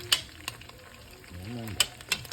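Oxtail browning in a pot gives a light frying sizzle with a few sharp pops and stirring clinks, close up, with a brief low voice-like sound in the middle.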